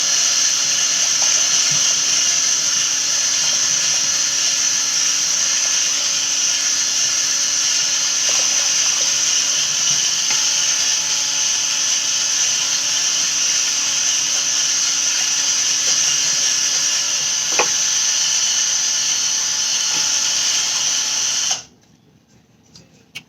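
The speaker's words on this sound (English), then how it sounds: "I use a drill for these larger amounts with a whisk attachment" An electric drill fitted with a whisk attachment mixes a large batch of paint thinned with Floetrol, giving a steady, loud whirring drone that runs unbroken for about 21 seconds and then cuts off abruptly.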